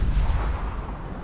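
A warship cannon fires in Roblox Warships, one loud booming blast with a heavy low rumble that fills the short moment without any talk.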